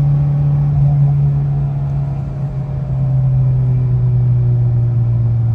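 A car cruises with a steady, low engine drone from inside the cabin, a continuous even hum with a slight dip and recovery partway through and no talking.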